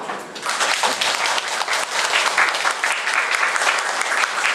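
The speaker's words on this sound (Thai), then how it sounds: "ขอเสียงปรบมือต้อนรับท่านอาจารย์กระนกสีเหลืองค่ะ" A large audience applauds steadily to welcome a lecturer at a university event, a dense, continuous wash of clapping that starts abruptly and holds at full strength with no talking.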